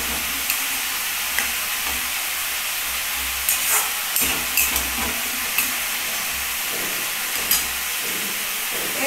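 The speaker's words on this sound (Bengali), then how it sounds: "এইবার কী হচ্ছে, মশলাটাও কষানো হচ্ছে, সঙ্গে আলুটাও ভাজা হচ্ছে।" Spice paste and potatoes fry together in a pan for a spicy katla fish curry, giving a steady close sizzle and hiss with occasional sharper crackles and stirring scrapes throughout.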